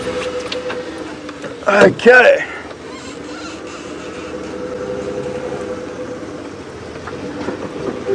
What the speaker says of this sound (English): your vehicle starting in the bush.